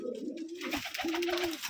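Pigeons coo in a loft in Rajshahi, a few soft, close, low rolling coos in quick succession, fairly quiet.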